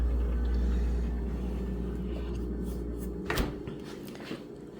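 A kitchen cupboard door bangs shut with one sharp close knock, after a low rumbling start and a quieter bump shortly after; no one talks.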